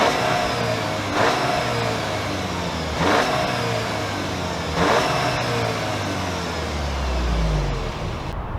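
A 2024 Audi A3 40 TFSI Quattro sits stationary while its engine is revved in several short, sharp blips over a steady idle, ending with a deeper surge. The sound is close and clear, with no talking.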